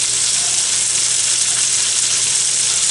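Spinach and jalapenos cook in a pan with scrambled eggs, giving a loud, steady, close sizzle that runs unbroken with no talking.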